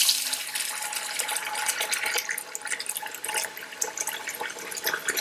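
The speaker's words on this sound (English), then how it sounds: "Turn the water on." Water from a kitchen tap runs into a bowl of sushi rice for washing. It is a steady, hissing splash that continues alone for the whole stretch, with no talk over it.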